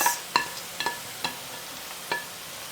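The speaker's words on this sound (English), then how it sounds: "Let's fry this. My onion is slightly golden brown. Now you add your carrots." Golden onions and freshly added carrots fry in a pan over medium-low heat, a soft sizzle punctuated by a handful of sharp utensil clicks against the pan, close and quiet.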